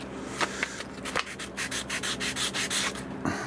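Sandpaper wrapped on a wood block scrubbed against a Taylor guitar part, a string of short, close back-and-forth strokes, moderately quiet and uneven in pace.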